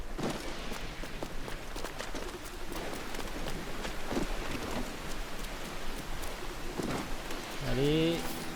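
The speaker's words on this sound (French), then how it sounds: "Pas quand il pleut aussi, ça fait pas semblant." Steady rain hisses across the whole stretch in the pirate-era video game Assassin's Creed Black Flag, a constant wash of drops with faint thumps and a short tonal game cue near the end.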